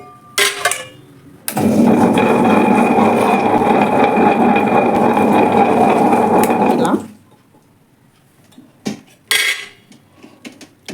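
A Shantha wet grinder grinding batter hums steadily at close range for about five seconds, then stops, followed by scattered clinks of utensils.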